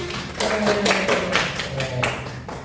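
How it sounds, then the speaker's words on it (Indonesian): Students in a mathematics class clap their hands in a lively burst of applause. The quick, overlapping claps sound close and moderately loud, with a voice faintly audible underneath. "Ibu beri tepuk tangan."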